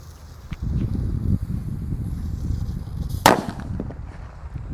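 A single sharp firecracker bang inside a plastic pipe cuts through low rumbling background noise, followed by a few faint crackles.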